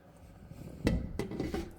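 Dried limes mixed into a beef and split chickpea stew, a spoon giving two or three soft knocks and scrapes against the pot, quiet and close, without talk.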